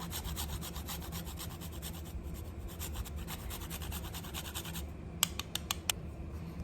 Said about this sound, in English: Also going to go ahead and grate a little fresh nutmeg.